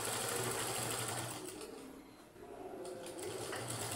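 Sewing machine stitching over the elastic of a salwar, a steady close whirring drone that runs throughout, dipping slightly midway before picking up again.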